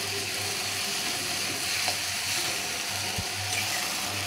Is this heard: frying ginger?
yes